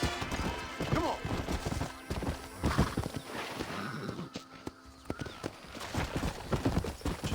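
In Red Dead Redemption, horse hooves clip-clop in a steady gait while riding, with a whinny and game ambience, and a voice talks briefly over it.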